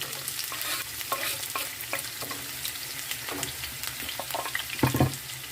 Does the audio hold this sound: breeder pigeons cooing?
no